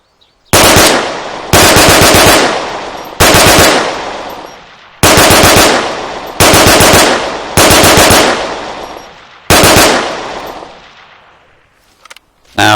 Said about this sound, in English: let's shoot the gun